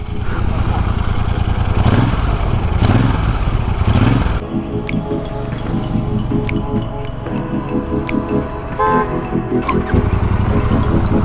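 A Royal Enfield Super Meteor 650 motorcycle's exhaust gives a steady, deep, close-up rumble that is loudest for the first four seconds, then settles lower, with light mechanical ticks over it.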